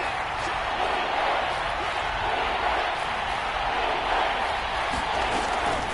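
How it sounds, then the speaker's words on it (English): Steady roar of a football crowd inside a domed stadium, a dense continuous wash of cheering and noise throughout with no break. "The crowd here in the Dome making things difficult."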